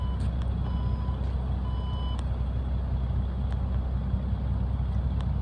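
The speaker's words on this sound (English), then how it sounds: "Power tailgate is standard on the Macan." The power tailgate of a 2017 Porsche Macan S gives two sets of high electronic warning beeps, then goes quiet over a loud, steady low rumble.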